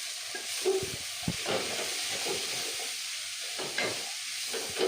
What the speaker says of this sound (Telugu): ఇప్పుడు క్యాబేజ్ వేసేస్తున్నా